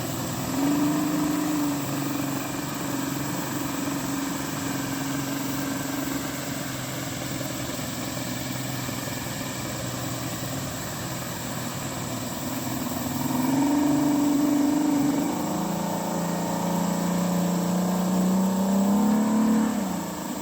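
A Yamaha engine freshly repaired with JB Weld runs loud and steady outdoors, a continuous drone with a rising rev around the middle and another climb near the end, no voices over it.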